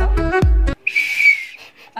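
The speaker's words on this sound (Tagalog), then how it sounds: "Tapos, meron ganito pang sipol." An emergency whistle kept in a room is blown once in a single shrill, steady blast lasting under a second, following a short burst of nearby speech.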